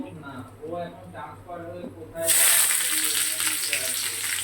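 Sliced onions dropped into hot oil in a kadai burst into a loud, steady sizzle, following a stretch of talking in a home kitchen.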